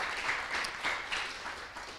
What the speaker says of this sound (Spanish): Vamos a dar un fuerte aplauso al Señor en esta tarde.